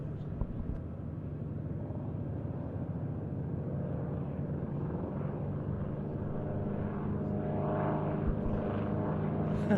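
An Ercoupe 415 light aircraft flies over Duxford during an air display, a steady, fairly faint engine drone with a low rumble that holds throughout and swells slightly toward the end.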